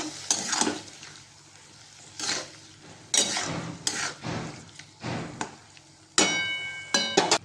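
Prawns in a pan being stirred with salt and chopped coriander leaves, a spoon scraping and clinking against the metal in irregular bursts over a quiet background.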